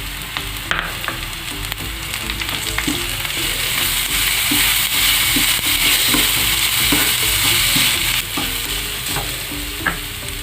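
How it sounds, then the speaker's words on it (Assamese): Chopped onion with grated beetroot and ginger frying and being stirred in a pan, a steady close sizzle with repeated light scraping strokes of a spoon against the pan throughout, no voices. "পিঁয়াজখিনি ভজা হৈ গ'ল। এতিয়া এটা বিটৰুট এনেকৈ কদ্দুকছ কৰি লৈছোঁ"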